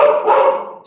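A single drawn-out dog bark or yelp, close and fairly loud, with a tonal, slightly howling quality that fades toward the end.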